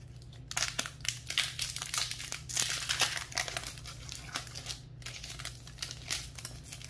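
Crinkly foil of a Magic: The Gathering Modern Horizons 2 booster pack being torn and crumpled open close by, a steady rustle and crackle with sharp rips for several seconds and no talking.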